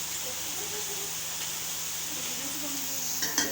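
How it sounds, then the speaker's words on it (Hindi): Capsicum being roasted in a pan gives off a steady, moderately loud sizzle with soft stirring scrapes, ending in a short clatter near the close; a faint voice murmurs in the background. "अब शिमला मिर्च की भी भुनाई करेंगे"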